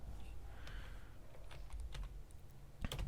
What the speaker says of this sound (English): Let's just do this and type in